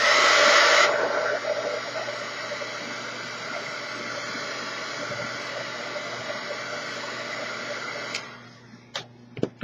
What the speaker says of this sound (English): I'm going to pass a little bit of that heat gun again.